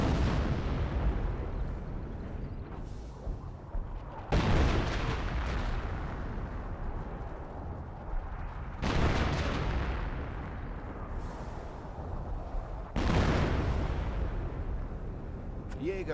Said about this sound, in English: Landmine detonation.